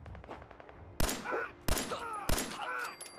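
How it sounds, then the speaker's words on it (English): Three sharp gunshots from Fallout 4, Survival mode, cracking out about half a second apart with echoing tails, loud and close over a low ambient hum. "I think I could probably shoot him in the face"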